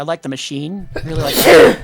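A short, sharp sneeze bursts out right after a person speaks, loud and close.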